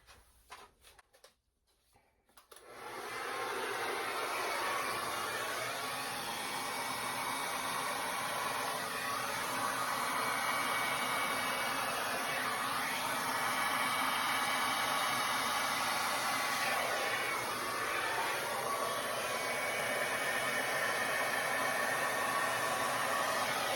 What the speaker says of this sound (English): next up is the hair dryer